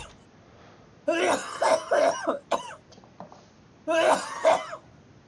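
Harsh, throaty coughing in two bursts, a long hacking fit followed after a pause by a shorter one, loud and close with no speech, like someone coughing up a lung.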